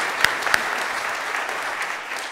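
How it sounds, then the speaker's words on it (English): A church congregation at a confirmation Mass gives sustained applause, a dense wash of many hands clapping with a couple of sharper claps standing out near the start. "Stand up and take a big round of applause."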